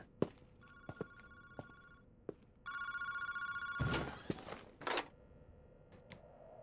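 A phone booth telephone in the video game Paranormasight rings in several bursts, with metallic bell tones separated by gaps, along with clicks and a louder rustling clatter partway through.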